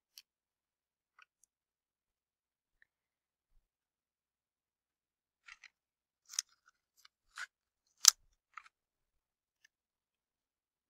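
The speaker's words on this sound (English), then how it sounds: "I'm going to go ahead and cut this box in half one more time" Scissors cut a paper box in half, heard as a few faint, scattered snips and crunches, a small cluster near the middle, set in otherwise quiet surroundings.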